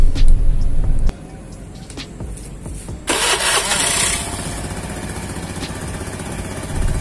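An automatic scooter's engine cranks with a brief electric starter whir, then catches and settles into a steady, close, loud idle after fresh gear oil has been added.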